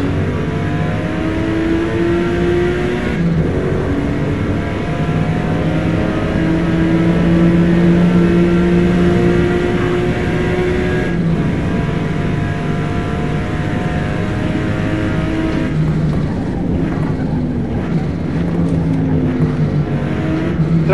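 Race car engine in Forza Motosport on the Virginia circuit, a loud steady drone that rises and shifts in pitch through gear changes for the whole stretch, with no voices.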